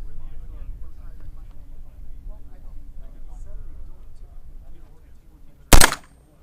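A full-auto AR rifle at an indoor firearms expo, heard as one short, loud burst near the end after a stretch of murmured talk and crowd noise.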